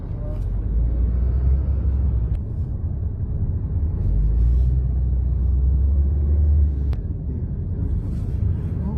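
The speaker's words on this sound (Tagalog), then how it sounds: "Traffic na din dito, no?" Steady low rumble of road traffic in Riyadh, continuous engine drone from cars passing nearby with a few brief clicks, no clear individual vehicles standing out.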